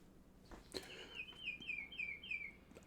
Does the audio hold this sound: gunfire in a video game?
no